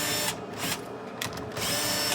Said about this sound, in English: I really like this drill though.